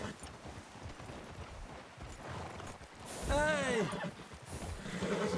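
A horse in a video game whinnies sharply over a steady clip-clop of hooves, with someone briefly shouting and voices talking over the scene.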